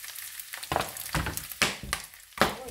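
Garlic dropped into hot rendered pork fat for ginataang pork, crackling and spitting in a series of loud sharp bursts that flare and die back between busy sizzling.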